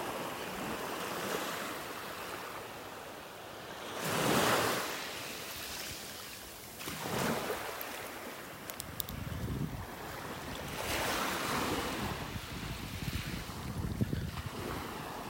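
Small waves washing onto a beach in North Naples, Florida on a morning walk, surges rising and falling every few seconds under steady wind buffeting the microphone.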